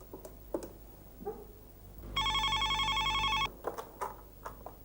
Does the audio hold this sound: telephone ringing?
yes